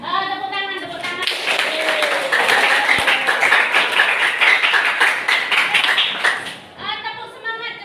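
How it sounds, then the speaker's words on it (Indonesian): A group claps together in a workplace training session, a loud run of rhythmic hand claps lasting several seconds, with speaking voices before and after the clapping. "Tepuk tangan, tepuk tangan."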